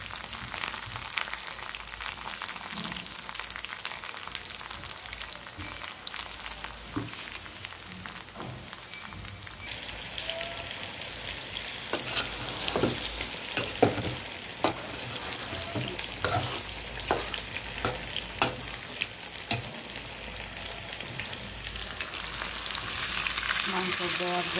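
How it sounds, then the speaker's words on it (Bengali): Onions frying in a pan for a mutton curry, a continuous hissing sizzle broken by occasional clicks and scrapes of stirring, holding steady and growing slightly louder toward the end, with no voices. "আর এদিকে আমি খাসি মাংস দেওয়ার জন্য পেঁয়াজ ভাজা নিতে আছি।"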